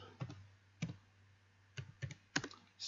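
Sharp, separate key clicks on a computer keyboard as a short command is typed, about six to eight quiet taps in uneven bursts over a low steady hum, with no voices.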